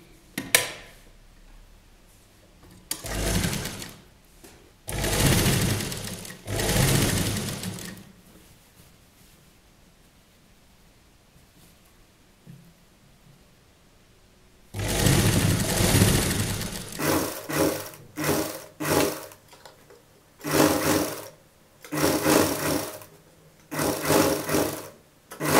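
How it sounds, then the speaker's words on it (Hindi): Sewing machine stitching a design onto the reverse side of a children's dhoti salwar, running in several loud bursts of whirring stitches separated by quiet pauses, with no talking. "अब हम इसे उल्टी साइड से लगाना स्टार्ट करेंगे और हम इसको ऐसे सिलाई लगा लेंगे"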